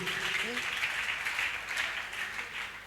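A gathered audience claps steadily in praise of God's goodness, the applause filling the room as a dense, continuous wash while a voice speaks faintly beneath it.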